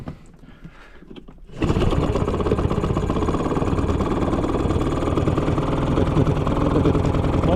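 An outboard motor on an Aqua-Master 280 boat with a reinforced transom starts after a short quiet stretch, then settles into a loud, steady, buzzing run close by that continues to the end.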